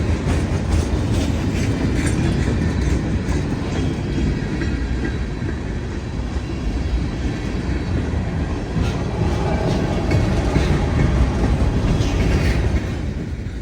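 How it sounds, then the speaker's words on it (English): A slow freight train rolls by steadily and close in Greenville, South Carolina, its wheels clattering rhythmically over the rails in a long unbroken rumble with occasional metallic squeals. "It took another 10 minutes for this slow train to pass me by."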